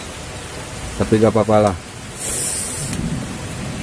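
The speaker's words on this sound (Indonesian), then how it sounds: "hujan lumayan deras" Heavy rain falls at a campsite as a steady hiss, with a brief voice speaking partway through and a faint rumble of thunder under the downpour.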